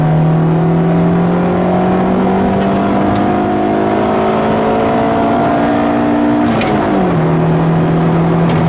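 A 1994 Honda Civic Del Sol engine revving loud and close, pitch climbing steadily as VTEC engages, then dropping back sharply near the end.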